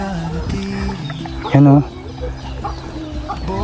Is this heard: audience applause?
no